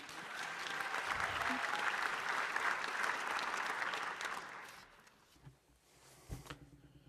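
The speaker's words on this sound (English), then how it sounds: "A big round of applause, please" A cinema audience at a film award screening claps for a documentary director, a loud, steady wash of applause lasting about five seconds before it dies away into scattered room noise and a few faint thumps.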